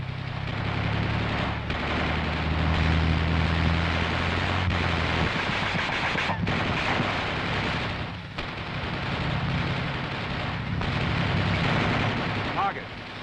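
Coaxial machine gun on an M551 Sheridan armored reconnaissance vehicle firing in sustained bursts, loud and close over a heavy engine rumble, with short pauses between strings of rapid shots.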